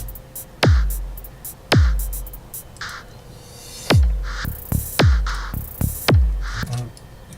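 A programmed beat: crisp closed hi-hat ticks patter over deep booming bass kicks that drop in pitch, looping in a loose, syncopated rhythm.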